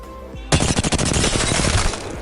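Automatic weapon firing in Apex Legends, a sudden, loud, rapid burst of closely spaced shots that rattles on without pause for nearly two seconds.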